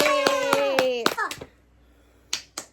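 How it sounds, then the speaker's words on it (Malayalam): A small child claps hands in a quick rhythmic run while a young voice sings or chants along. After a short quiet pause come two more sharp claps. "അപ്പൊ ക്ലാപ്പ് യുവർ ഹാൻഡ്സ്."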